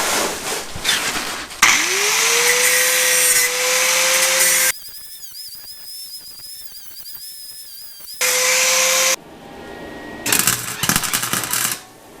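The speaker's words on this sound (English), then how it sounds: "Before I weld anything, I'm gonna clean the metal up a little bit." Power tool cleaning up car metal on a turbo-swapped Subaru Impreza before welding, whining loudly in bursts that spin up and cut off, with grinding clatter between runs and no talk.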